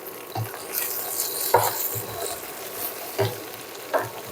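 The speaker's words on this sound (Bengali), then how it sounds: "বড়িগুলা অ্যাড করে দেওয়ার পরে একটু দুই মিনিট আমরা সুন্দর করে বড়িটাকে আগে রান্না করে নেবো" Jujube plums (boroi) cooking in a pan for a sweet-sour-spicy pickle, with a steady soft sizzle and several short stirring scrapes spaced through, close and moderate in level with no talk.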